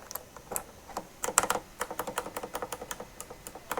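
A mechanical keyboard switch fitted with a spring is pressed again and again, giving crisp typewriter-like clicks in an uneven, fairly quick rhythm, close and alone.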